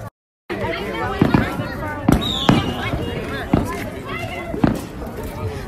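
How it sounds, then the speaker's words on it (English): Neighbors' firecrackers on the Fourth of July, a string of sharp cracks and bangs at irregular intervals, fairly close, with people talking and chattering throughout. "our neighbors have like some firecrackers going on"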